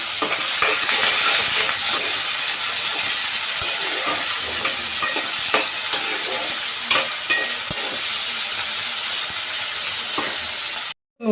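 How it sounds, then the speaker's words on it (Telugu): Onions and curry leaves frying in an oil tempering with mustard seeds for a raw banana yogurt chutney, a loud, steady close sizzle with occasional stirring ticks, ending abruptly, no voices. "ఉల్లిపాయలు కూడా వేసుకుంటున్నాం అప్పగే పెరుగు ఎక్కువ ఉల్లిపాయలు వేసుకుంటేనే బాగుంటుంది కరివేపాకు కూడా వేసుకున్నాం ఒకసారి"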